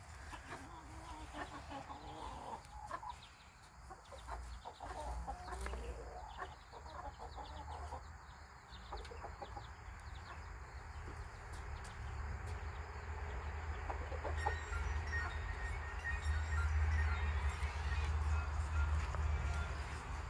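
Chickens cluck softly and scattered inside a chicken coop, faint under a steady low hum and background noise, with occasional voices nearby.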